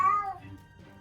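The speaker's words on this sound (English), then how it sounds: "There's a cat." A single short cat meow, fairly close, falling in pitch and fading quickly into quiet.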